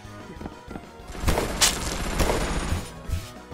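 Gunfire in Banana Shooter, a cluster of sharp, loud shots and bursts in the middle of the moment with quieter clatter before and after.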